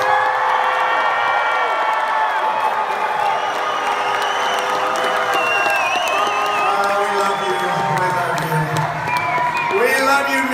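A large rally crowd in Missouri cheers, whoops and claps steadily, a dense wall of voices with shouts rising above the roar.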